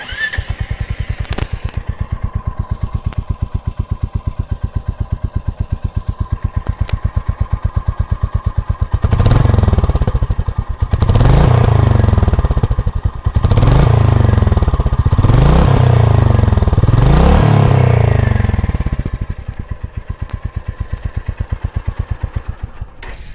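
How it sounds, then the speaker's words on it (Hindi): A Royal Enfield Meteor 350 motorcycle exhaust idles with a steady thump, then several loud revs rise and fall in quick succession before it settles back to idle. "ये साउंड है मीटियोर 350 के साथ में।"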